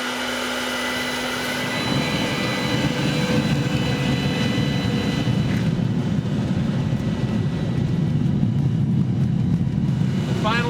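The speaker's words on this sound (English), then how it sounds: "Propane, air, and then actually propane." A propane forge roars steadily with its air blower running, a broad continuous rushing drone that builds up after the first couple of seconds and holds constant and close throughout.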